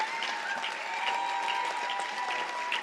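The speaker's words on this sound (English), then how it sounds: "let's give these men a round of applause" An audience at a Making Strides Against Breast Cancer kickoff event applauds the men who raised money, a dense, even burst of clapping that runs unbroken for the whole stretch.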